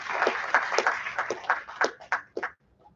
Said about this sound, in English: Please give a round of applause to this hospitality committee.